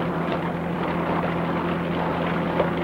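A helicopter flying low over water while chasing a moose, a dense continuous rotor and engine roar, loud and steady throughout with no voices.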